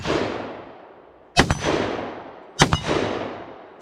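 Three loud, sharp 6.5 Grendel rifle shots crack at a water jug range, roughly a second and a quarter apart, each followed by a long rolling echo that decays into quiet.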